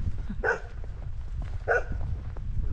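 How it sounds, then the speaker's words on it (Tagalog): A dog barks outdoors at a camp, two sharp barks spaced about a second apart over a steady low background rumble, fairly close and clear. "May aso pa oh. Nagtatatahol yan oh."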